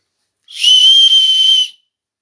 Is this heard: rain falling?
no